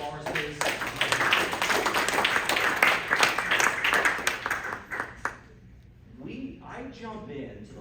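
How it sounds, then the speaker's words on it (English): An audience at a live in-person talk on a crypto tour claps, with dense, loud applause for about five seconds. It thins out and stops, and a voice follows in the quieter tail. "Can we give a round of applause for Walrus, please?"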